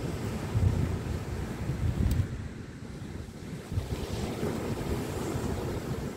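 Northeasterly wind and surf on a beach beside a pier during sea fishing, a steady broadband rush of breaking waves and gusting wind buffeting the microphone, loud and continuous with no talk.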